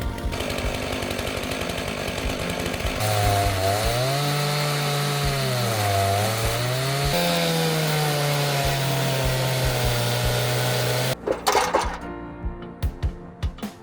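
A chainsaw mills giant wood logs for a 10-foot moose sculpture at a ski resort. The engine drones loud and steady, its pitch rising and dipping as the bar cuts through the wood, then it cuts off, leaving scattered knocks and clatter.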